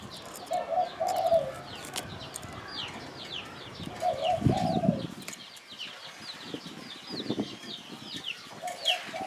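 A spotted dove coos several times in low, soft phrases at close range, spaced a few seconds apart, with faint birdsong and chirping from other birds in the background.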